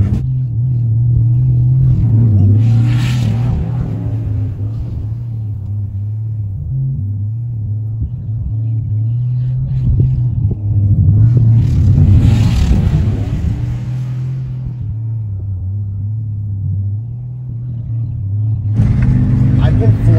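Vehicle engine running on canola oil and bogging down, a steady low rumble with uneven dips and brief louder surges, heard up close with a voice talking over it at times.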